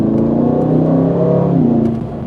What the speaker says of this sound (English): The engine is the most important part of the experience, and it is sourced from Mercedes-AMG.